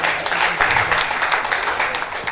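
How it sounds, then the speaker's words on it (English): Dense applause from an audience at an investiture ceremony, steady and fairly loud throughout the short stretch. "Please give another round of applause."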